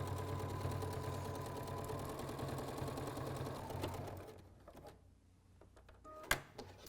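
A Bernina sewing machine with a tailor tack foot stitching fringe with wool thread, a close rapid mechanical whirring run that stops after about four seconds, followed by quiet handling clicks and a sharp knock.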